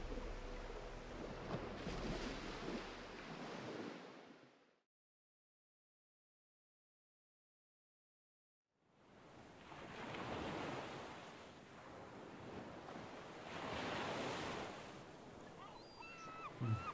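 Boats glide across open ocean in Minecraft, a steady wash of waves and wind running loud for several seconds, breaking off into full silence, then swelling back and continuing to the end.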